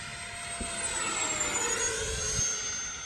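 A steady, high-pitched turbine howl from a scratch-built SAAB J35 Draken model jet with a 70mm electric ducted fan passes by at a moderate distance, pitch gliding slowly downward as it moves away.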